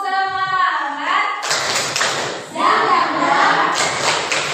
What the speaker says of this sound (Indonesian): kita tepuk semangat dulu dengan dang ding ding ding